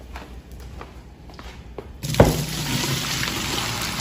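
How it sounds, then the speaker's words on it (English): Boiling water and vinegar are poured off from a pot into a kitchen sink: quiet handling noises, then a sudden loud splash and a steady, close stream of water draining. "We're going to pour that off."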